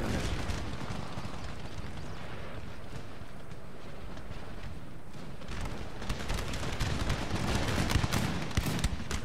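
Massed musket volleys and battlefield din in the Empire Total War video game, a dense continuous roar of crackling shots and rumbling, heavier bursts toward the end.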